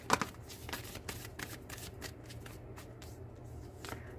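Tarot cards being shuffled by hand during a reading: a steady soft riffling and sliding of cards, close but quiet, with no talk.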